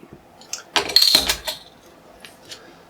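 A bottle of Greene King Yardbird pale ale is opened: one short, bright metallic clink and hiss of the cap coming off midway, close and fairly loud, then quiet.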